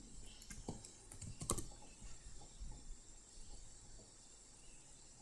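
Faint typing on a computer keyboard, a few scattered light key clicks in a quiet room, with a brief cluster of taps near the start and soft background hiss.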